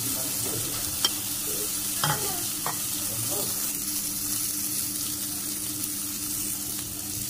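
Tilapia fish frying in a wok after being flipped makes a steady sizzle, with a few sharp clinks and scrapes early on as the pieces are turned, then an even crackle.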